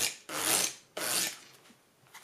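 Fake plastic-coated Bicycle playing cards being handled, giving two loud rasping riffle-like bursts close by, each lasting about half a second, followed by fainter shuffling.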